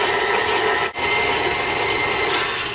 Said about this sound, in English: I'm gonna cream these together with the paddle attachment until they're nice and fluffy.